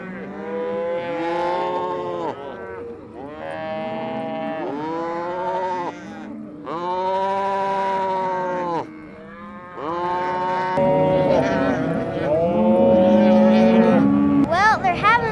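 Cattle at a ranch cow branding moo repeatedly in long, loud, drawn-out calls, several animals overlapping, with a low engine-like rumble beneath.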